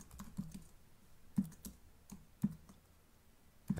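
Typing on a computer keyboard while writing a basic HTML document, heard as quick close clusters of key clicks separated by short pauses, with no voice.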